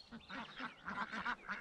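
A flock of farm ducks quacks in a rapid run of nasal calls, close and fairly quiet, with no talk.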